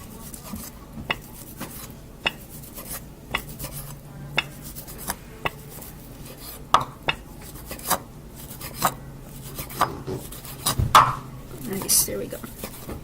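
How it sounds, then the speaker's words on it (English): Knife slicing through food into thin slices on a board during plating, a steady series of short crisp cuts repeating every second or so, close and moderate, with faint background kitchen noise. "We're just going to slice it."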